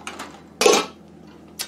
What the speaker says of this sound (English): Put the top on.